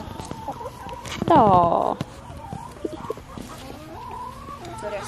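Farm chickens cluck in a series of close, loud calls with one drawn-out squawk, while people talk casually nearby.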